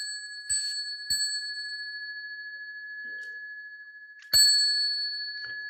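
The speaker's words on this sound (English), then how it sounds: "I'll ring the bell 3 times and you can all bow together" Small meditation bell rung for bowing during a Buddhist Amitabha session, three clear metallic strikes, two close together and a third after a pause, each leaving a long, bright ringing tone that fades slowly.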